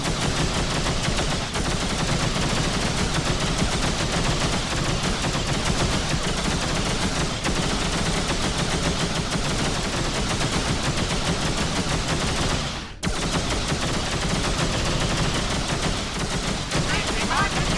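Dense, continuous gunfire fills a space battle in X3: Terran Conflict, a loud unbroken barrage that stops for a split second and then resumes just as heavily.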